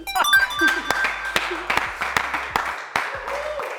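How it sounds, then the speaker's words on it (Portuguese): Brief clapping from a small quiz-show audience, scattered sharp claps mixed with voices and a short tone, lasting a few seconds. "Palmas, por favor."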